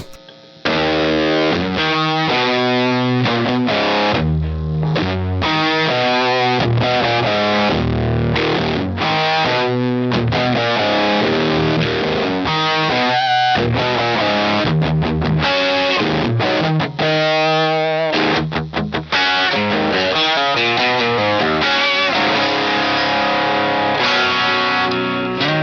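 Electric guitar with single-coil pickups played through a DADTech L Mod Fuzz, a hand-made Fuzz Face-style pedal, gain high: loud, saturated fuzzy chords and riffs running continuously with brief stops, thick and noisy.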